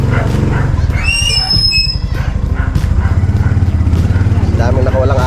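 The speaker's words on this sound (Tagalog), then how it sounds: "Daming nakawalang aso ah." Loose dogs bark on a street close by, mixed in with a rumbling vehicle engine and people's voices, with a few sharp high whistles or squeals early on.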